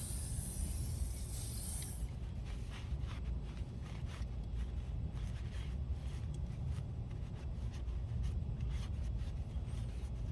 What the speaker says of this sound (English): Get this lubed up with some WD-40.